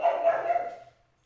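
Dogs bark in a brief muffled burst from indoors, several quick overlapping yaps close together that fade out within a second.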